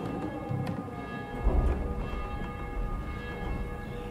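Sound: bells ringing in video game Dying Light

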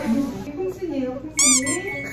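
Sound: cat meowing

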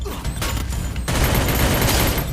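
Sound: P90 gunfire in a shooting video game

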